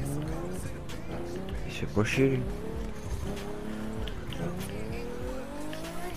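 Race cars roar and squeal their tires in The Crew 2, engine noise rising and falling with a sharp skid squeal in the middle, while someone talks over the game sound.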